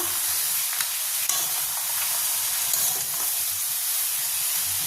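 Tomato paste masala for crab curry sizzling in a pan as it is stirred, a continuous bright hiss with faint occasional scraping, steady and moderately close, no talk.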